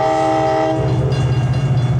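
A train passes close by with a loud, sustained horn blast over the steady rumble and clatter of the rail cars, with no voices.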